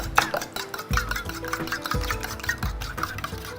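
Eggs are whisked in a bowl in a cooking demonstration, with rapid repeated clicking strokes of the whisk against the bowl and a few duller knocks, close and moderately loud, with no speech.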